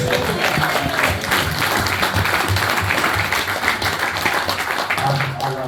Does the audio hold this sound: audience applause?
yes